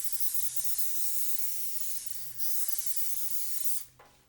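A steady pressurized hiss of non-stick cooking spray onto the inside of a cake pan runs for several seconds with a short break, then cuts off with a faint clatter.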